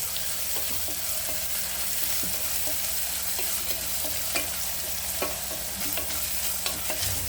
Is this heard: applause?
no